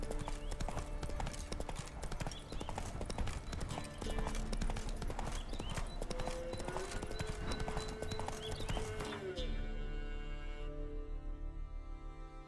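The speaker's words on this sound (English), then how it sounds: "Ride, trusty steed, ride." Hooves clip-clop steadily at a gallop as a horse is ridden in The Witcher 3, close and continuous over game music, with a brief whinny-like tone and the hoofbeats fading near the end.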